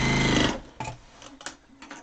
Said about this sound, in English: I'm sewing it from the other side.